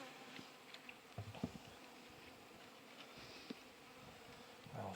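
Honey bees hum and buzz steadily around a spring beehive during an inspection, a soft continuous drone with a few louder passes close by and occasional light knocks of frames.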